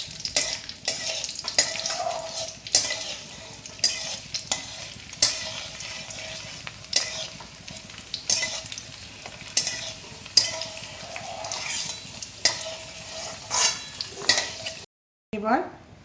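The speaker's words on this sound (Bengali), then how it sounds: "কিশমিশ দেবো, ওটাও একটু ভেজে তুলে নেবো আমি।" Raisins fry in a pan while a spatula stirs them for nabaratna pulao, with repeated sharp metallic scrapes and clinks about once a second over a soft sizzle, then a short pause before the stirring resumes.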